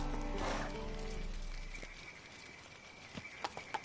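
Hooves of Roach, a horse in The Witcher 3 video game, clip-clop in a short burst of sharp hoofbeats near the end, after a fading snort-like whinny and faint background ambience.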